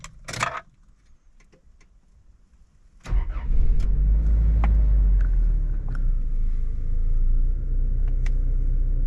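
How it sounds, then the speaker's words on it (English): A Toyota Estima (Previa) Aeras van engine, heard from close by. A brief click comes first, then the engine cranks and catches, and a deep, steady running rumble continues to the end. "Let's fire it up."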